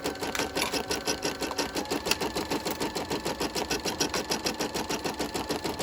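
An embroidery machine stitches on a paper doily with a fast, steady, rhythmic mechanical clatter, close up and continuous throughout.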